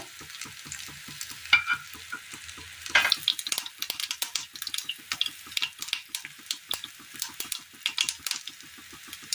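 Mustard seeds splutter and pop in hot oil in a pan for a Kerala curry, a dense run of sharp crackling bursts over a steady frying sizzle, close and loud with no talking.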